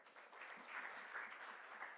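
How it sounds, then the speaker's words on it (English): An audience applauds steadily to celebrate graduating journalism fellows at a fellowship graduation ceremony, a dense even patter of many hands clapping without pause. "let's clap for our fellows"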